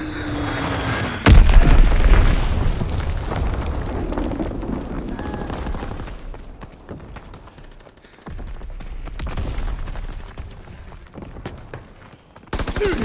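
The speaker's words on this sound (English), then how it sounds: "Azon bomb mission underway." Call of Duty WWII battle audio: a heavy bomb blast opens, followed by rolling booms, scattered gunfire and rumbling debris, loud and dense with dips between volleys.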